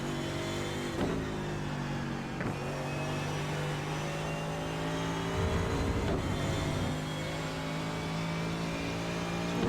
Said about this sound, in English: So we'll try second gear here so you can see the difference.